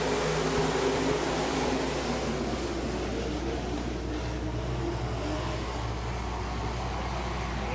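Stock cars roaring off at the start of a dirt-oval heat race at Boone County Raceway, a dense, steady wall of engine noise close by that stays loud and unbroken throughout.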